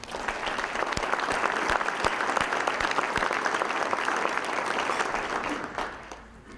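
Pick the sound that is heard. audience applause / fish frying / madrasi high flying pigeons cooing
audience applause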